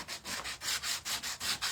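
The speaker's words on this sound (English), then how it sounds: "You guys can also come in with your sander" Hand sanding on a salvaged wood piece, a regular back-and-forth rasping in about eight even strokes, close and fairly loud with no talk.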